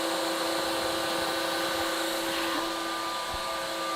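A Ninja Creami Deluxe machine processes a strawberry lemonade slushy with a loud, continuous motorized whir and hum that holds steady throughout.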